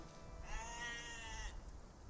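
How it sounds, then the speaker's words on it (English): A single sheep bleat sounds in the Age of Empires 2: Definitive Edition video game, one clear wavering cry about a second long over quiet game background. "There's a sheep right there."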